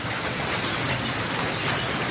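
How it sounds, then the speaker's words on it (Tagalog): Steady, even hiss of light rain falling outdoors by a river, continuous and diffuse with no voices. "patak-patak na lang yung ulan guys"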